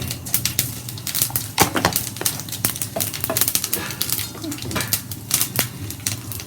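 Mustard seeds, urad dal and cumin sizzle and pop in hot oil, a steady crackle punctuated by sharp, irregular spitting bursts, close and fairly loud throughout.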